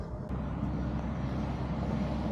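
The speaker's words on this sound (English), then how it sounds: "a lot of truck traffic up here" Steady broadband roadway rumble from truck traffic on a nearby road above a riverside campground in Durand, Wisconsin, continuous and fairly loud with no talk.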